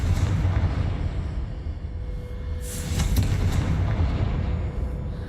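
Confringo fire spell blasts in Hogwarts Legacy, a dense run of loud rumbling bursts and booms that rolls on continuously with brighter crackling hits near the middle.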